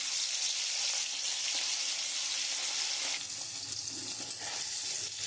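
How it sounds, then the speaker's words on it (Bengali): Rohu fish pieces rubbed with salt and turmeric frying in hot oil, a steady, close hiss and crackle of sizzling that continues throughout with slight stirring noise. "আমার তেলটা গরম হয়ে গেছে, এবার আমি মাছগুলো দিয়ে দেবো।"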